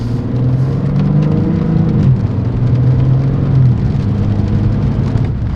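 A BMW M4 Competition with new coilovers driven down the road, giving a loud, steady low drone of engine and tyre noise from inside the car, with no breaks.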